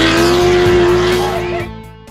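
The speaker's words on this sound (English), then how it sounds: "Mixed with careening trophy trucks." Trophy trucks racing on the Baja 250 desert course, a loud close engine roar with a sustained whine that fades as the vehicle passes.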